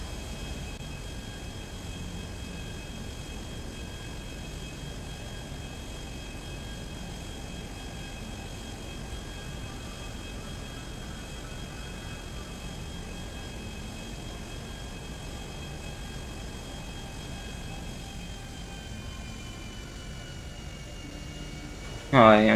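An airplane flies in GTA 5 Online on the way to North Yankton. Its engine gives a steady, continuous drone at an even level throughout, with a short louder burst right at the end.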